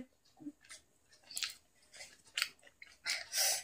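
Jonny chewing rice up close, a quiet string of wet, squishy bites and mouth clicks in irregular bursts with short pauses between them, no talking.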